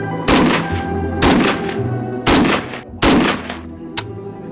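A Type 81 rifle fires 7.62x39 ammunition in four loud, booming shots about a second apart, each with a sharp crack and rolling echo, plus a fainter click near the end.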